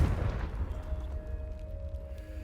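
A Confringo fire spell blast in Hogwarts Legacy, a deep booming burst at the start that rumbles and fades over two seconds, with a faint lingering tone beneath.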